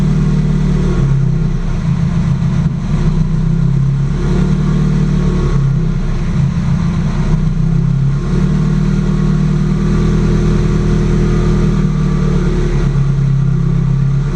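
A Subaru GC8 engine idles steadily through a cold start being tuned, a loud, continuous low rumble with slight wavering in pitch and no talk over it.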